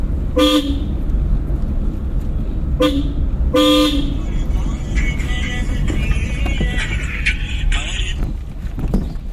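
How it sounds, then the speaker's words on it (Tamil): A car horn honks twice, then a third longer blast, during a driving lesson on the road. Loud and close, over constant engine and road rumble, with faint traffic noise afterwards. "ஹார்ன் அடிச்சுருக்கோம்"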